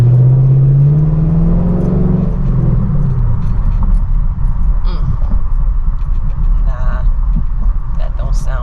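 Camaro SS engine droning steadily while driving, a loud low rumble with a rising then falling rev early on, road noise throughout and brief voice-like sounds on top.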